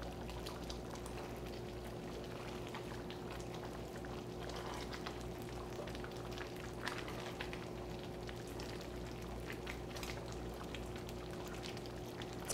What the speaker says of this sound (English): Ooh, bubble, bubble.